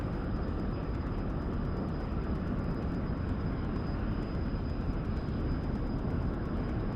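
Jet engine in DCS World throttling up for takeoff, a loud, steady broadband roar with a thin high whine, holding constant and close throughout without any voices.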